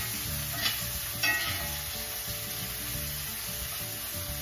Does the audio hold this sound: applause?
no